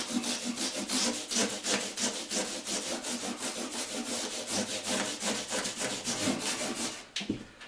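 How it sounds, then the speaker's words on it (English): Guitar frets being sanded down by hand, a steady fast back-and-forth rasping rub that repeats in even strokes, close and loud, ending with a brief clatter. "Now we've sanded the frets down."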